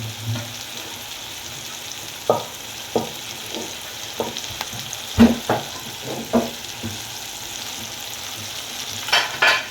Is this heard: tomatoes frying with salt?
yes